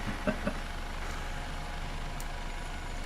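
An HH-65A Dolphin helicopter in Microsoft Flight Simulator 2024, heard from outside as a steady, even engine and rotor drone with a low hum, constant and moderately loud throughout.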